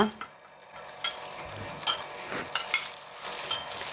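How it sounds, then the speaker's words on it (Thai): A spoon stirring a Thai jaew dipping sauce of fish sauce, sugar and seasonings in a bowl, with light irregular clinks and scrapes over a soft background hiss. "คนให้เข้ากันค่ะ"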